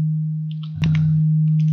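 A pure sine tone from an FM synthesis operator on an M8 Tracker holds steady throughout, with brief chirpy blips and a short burst as feedback is added, alone and loud.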